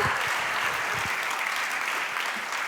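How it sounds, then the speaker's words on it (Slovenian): Dense applause from the audience at a youth award ceremony, a continuous even wash of clapping from a sizeable crowd, with a voice speaking faintly underneath at the start. "Ja, ploskamo, se veselimo z mladimi, z nagrajenci, vsemi tekmovalci."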